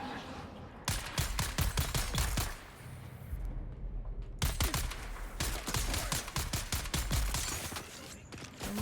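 Rapid bursts of automatic gunfire in the sci-fi survival game Dune Awakening, loud and sustained with a brief lull partway through before the firing resumes.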